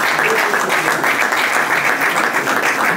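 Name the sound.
audience applause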